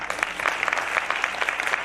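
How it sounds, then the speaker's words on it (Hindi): Listeners at a church service applaud, with individual claps audible as a lively, fairly quick rhythm within a moderate crowd, sounding close and consistent through the brief stretch. "पास साहब के लिए तालियां बजाएं सर"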